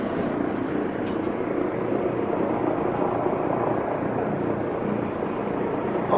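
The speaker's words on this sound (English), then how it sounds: "it's like hovering above our apartment block" A helicopter hovering over an apartment block, a steady, moderately distant rotor drone that holds level for the whole stretch with no voices over it.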